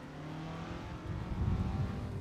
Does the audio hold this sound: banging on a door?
no